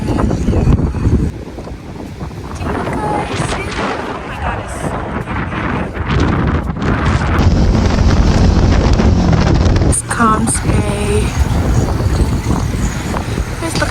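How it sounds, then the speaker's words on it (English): Strong wind buffets the microphone in a continuous loud rumbling roar near a coastal boat setting, with gusts rising and falling throughout and a person talking partly underneath the noise. "but it's too windy."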